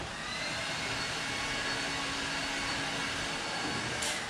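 A heat gun warms vinyl wrap film on an Aston Martin DB4 Zagato tribute car, giving a steady, loud, even blowing whir that holds without a break from start to finish.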